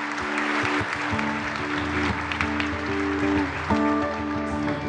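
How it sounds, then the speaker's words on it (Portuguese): Church congregation clapping for Jesus Christ during a baptism Mass, steady applause over organ or keyboard music with sustained chords. "Vamos dar uma linda salva de palmas para Jesus Cristo"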